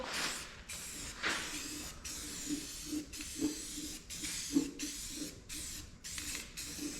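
Rust reformer paint hisses from a spray can onto a Firebird car in repeated short bursts, each a second or so long, separated by brief pauses.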